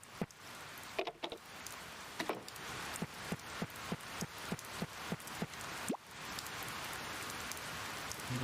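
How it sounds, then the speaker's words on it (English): Rain falls in the video game Harvest Moon: Save the Homeland as a steady hiss, with a regular series of soft ticking game sounds repeating about every third of a second over it. "I cannot gift it to her as long as it's raining"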